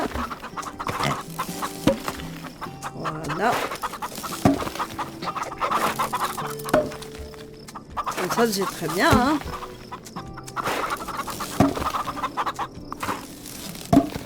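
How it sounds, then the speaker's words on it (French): Hens cluck and chatter repeatedly in the farming video game Farm Together, a busy layered flock sound heard under someone speaking French. "on a deux catégories de poules"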